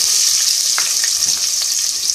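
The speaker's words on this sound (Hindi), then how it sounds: "सबसे पहले ऑयल में हम प्याज ऐड करेंगे" Onion frying in oil with cinnamon, cloves and green cardamom for a restaurant-style beef curry, a steady close sizzle with a few faint crackles and pops, no voices.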